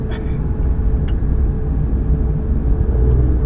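A Porsche 992 GT drives on a race track, its engine a heavy, steady low rumble heard from inside the car, with a few faint clicks over the top.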